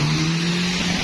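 A fast car's engine revs hard and loud in a short, sustained burst with a steady droning tone, close by and with no talk.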